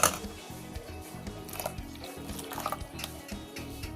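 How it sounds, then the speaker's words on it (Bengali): Water poured and whisked into a thick rice flour batter for patishapta, with soft liquid splashes and drips over a low steady stirring rustle, close and fairly quiet. "এর মধ্যে আমি একটু জল দিয়ে দেব"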